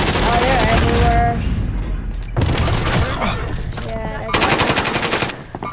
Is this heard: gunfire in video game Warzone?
yes